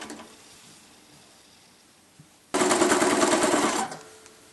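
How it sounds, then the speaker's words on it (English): A sewing machine stitches binding onto a bag edge, running in one loud, continuous, rapid burst of about a second and a half after a quiet stretch. "Put it back in place and stitch back to the other edge."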